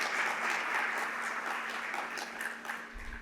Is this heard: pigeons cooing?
no